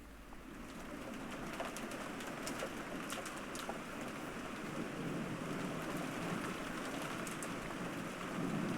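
Steady, fairly quiet rain pours continuously in the Umineko visual novel, a dense hiss with scattered drops and no voices.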